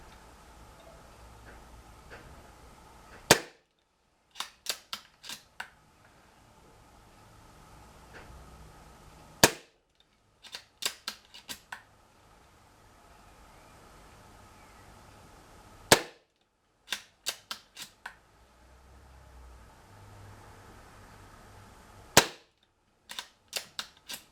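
An air rifle fires pellets (heavy, medium and light) through a chronograph before range testing. Sharp cracks come in four spaced bursts, each a loud report followed by a quick cluster of smaller clicks, with quiet pauses between.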